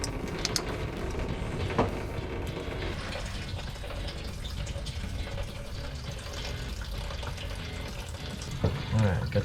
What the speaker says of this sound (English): Coolant's coming out.